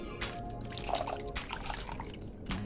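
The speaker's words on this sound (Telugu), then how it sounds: "పెరుగుని కొంచెం లూజ్గా చేశాను చల్లలాగా. సో ఇప్పుడు దీనిని మనము మన రైస్లో యాడ్ చేసుకుందాము" Thinned curd, loosened with water to a buttermilk consistency, is poured into rice for set dosa batter, giving a soft, close, continuous liquid pour and trickle at low volume.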